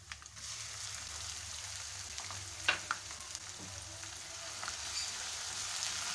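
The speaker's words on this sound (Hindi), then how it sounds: "तो अब मैं इसमें लहसुन अदरक का पेस्ट डालूंगी।" Garlic ginger paste frying with golden onions in a pan, a steady close sizzle and crackle throughout with a few sharper pops and stirring scrapes, no talking.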